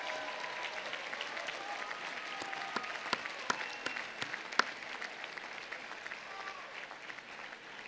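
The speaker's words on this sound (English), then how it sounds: "give your parents and family a wonderful round of applause for their support and love" A graduating university class at a 2018 commencement ceremony gives its parents and families a sustained round of applause, a dense crowd clapping heard from a distance with a few louder nearby claps.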